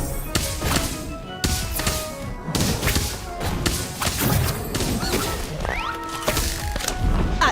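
Repeated heavy magical blasts from the Bombarda spell in Harry Potter Magic Awakened, a run of thumping, crashing impacts in quick succession amid busy game effects, with no talking.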